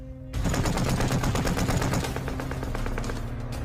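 Rapid, sustained machine-gun fire rattles loudly and continuously after a brief quiet start, dense bursts overlapping with no pauses.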